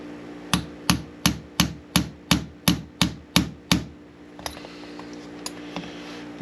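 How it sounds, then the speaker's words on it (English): A small hammer taps a pin into an AR-15 6.8 SPC upper receiver: about ten sharp, evenly spaced metallic taps close by, followed by a few faint lighter clicks and quiet handling. "Take our small hammer"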